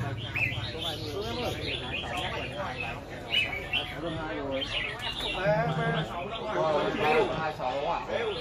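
Competition songbirds call from cages at a bird-singing contest arena, a busy mix of chirps and tweets close by throughout, with steady talk from people over and around them.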